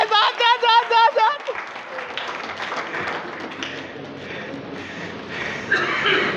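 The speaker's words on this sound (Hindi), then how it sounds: "ताली बजाओ इनके लिए" Live audience in a theatre play bursts into applause after a short burst of speech, the clapping spreading into a dense, steady crowd wash with scattered laughter throughout.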